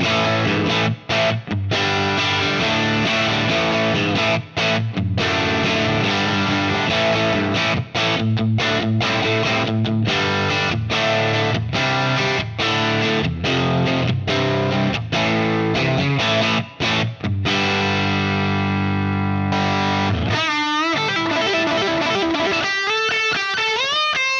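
Electric guitar played through a Bassman amp model with a 1960 TV cab, loud driven chords and riffs chugging rhythmically, ending in a wobbling sustained note.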